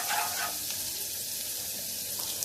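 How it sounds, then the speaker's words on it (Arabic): Garlic sautéing in a pan gives a close, even hiss of hot oil with faint stirring scrapes, steady and unbroken for a couple of seconds. "هشوح في الثوم."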